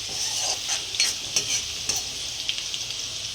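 Green chillies frying in hot oil at the start of sabudana khichdi: a soft steady sizzle under repeated light scrapes and taps of a spoon being stirred through the pan.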